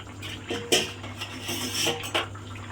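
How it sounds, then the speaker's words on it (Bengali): A metal lid lifted off a pan of flour pieces cooking on a home kitchen stove gives a few clanks and clinks of pot and lid, close and moderately loud over a steady low hum, with no talk. "এবার আমি ঢাকা খুলে দেখব ঠিক কেমন হলো"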